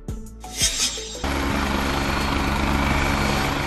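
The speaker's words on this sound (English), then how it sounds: "This is a helicopter used by the Coast Guard for missions such as sea search and rescue and maritime law enforcement." A Coast Guard search-and-rescue helicopter roars into a loud, steady rotor and engine drone after a short, quieter start, filling the rest of the clip with no voices.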